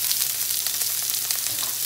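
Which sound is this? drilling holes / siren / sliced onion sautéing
sliced onion sautéing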